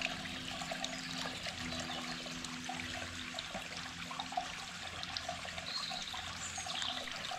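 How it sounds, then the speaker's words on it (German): Water runs steadily from the Rosselbrunnen, a stone fountain on a hiking trail in the Odenwald, giving a constant outdoor splash and trickle at moderate distance with no talking. "Und da ist er, der Rosselbrunnen."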